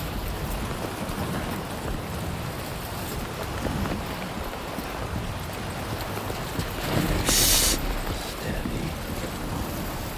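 Wind blows steadily across an open landscape in the video game Death Stranding 2, a continuous broadband rush with a brief louder gust near the end and no talking.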